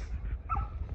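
An American Bully dog gives a single short, gruff bark or yip, brief and close, with no talking.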